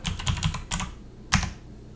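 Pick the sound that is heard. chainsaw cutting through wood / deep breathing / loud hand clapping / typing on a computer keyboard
typing on a computer keyboard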